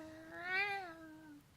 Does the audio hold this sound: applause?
no